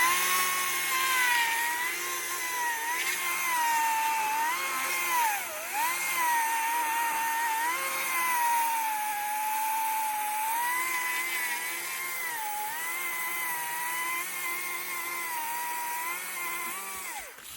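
A chainsaw cuts through a felled tree trunk for firewood, its engine whining steadily with pitch dips as the chain bites into the wood. It sounds fairly close and runs continuously with no talking.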